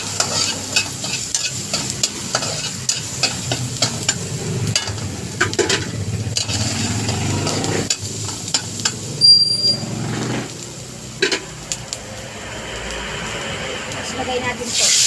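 Garlic and onion frying in a little oil for pork adobo, stirred steadily: a continuous close sizzle with repeated scraping strokes of a utensil against the pan and some speech over it.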